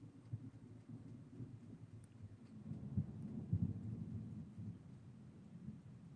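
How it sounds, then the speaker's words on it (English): Distant thunder rumbles low and faint during an evening storm, with a few deeper rolls swelling midway over soft background noise. "can y'all hear that thunder?"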